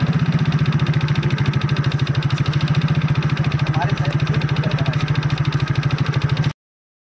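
A small automatic scooter engine putters at a fast, even idle, its rapid low thump running steadily before cutting off abruptly near the end.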